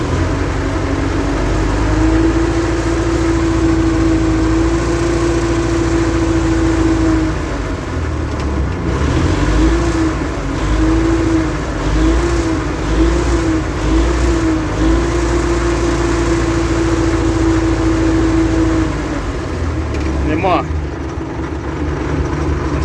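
Diesel engine of a YuMZ-6 tractor, fitted with serviced fuel injection equipment, idling steadily and then revving up, close and loud throughout, with someone talking over it.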